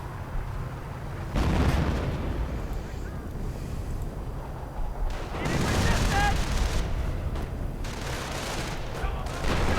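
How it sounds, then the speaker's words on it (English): Artillery shells bursting around a German Ostwind anti-aircraft tank in a Company of Heroes-style real-time strategy game, rumbling explosions swelling twice over a steady wind-like battle ambience, with a commentator's voice faintly present. "Ostwind taking a bit of artillery fire."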